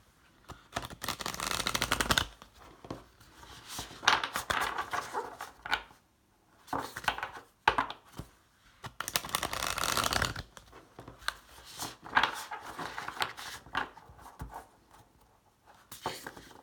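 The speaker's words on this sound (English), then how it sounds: "So I'm going to pull a card from the Universe Has Your Back deck just to wrap up the reading." Shuffling a deck of oracle cards and drawing one, a close riffling, flapping rustle in several long bursts with brief pauses and soft taps between, no voices.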